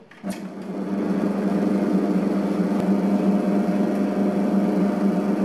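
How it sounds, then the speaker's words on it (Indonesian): A bread machine kneads whole wheat dough with a continuous, steady motor hum and churning drone, starting with a click and running close and unbroken. "Nyalakan mesinnya, langsung kita mengadon"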